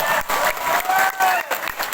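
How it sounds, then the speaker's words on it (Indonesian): Brief crowd noise from a school assembly at an Islamic religious lecture, with clapping and cheering voices in short bursts, some vocal chanting mixed in. "Tepuk tangan"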